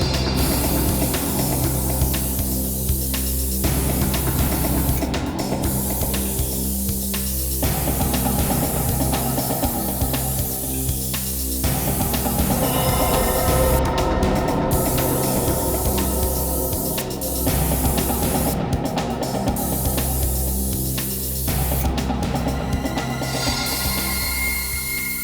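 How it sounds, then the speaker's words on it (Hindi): A special aerosol spray is sprayed all around the inside of a lift, with repeated short hissing bursts at uneven intervals over steady background music. "लिफ्ट में चारों तरफ अच्छी तरह से स्प्रे कर दे"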